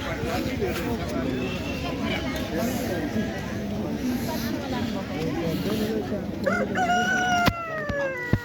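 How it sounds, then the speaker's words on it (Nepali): At a busy Saturday village market in Phidim, a rooster lets out a loud, drawn-out crow near the end over a steady babble of crowd chatter and voices. "ओहो भाले त खतरा बास्यो त नि"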